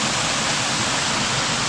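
Man-made concrete waterfall at a spot on Koh Samui, Thailand, pouring as a steady, even rush of broadband water noise, close and continuous, with no voices.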